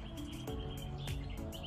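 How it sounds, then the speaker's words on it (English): Birds chirp and tweet in a back garden beside a deck and pergola, several short, faint calls scattered over a quiet outdoor background. "There's so many birds that you can hear in this space."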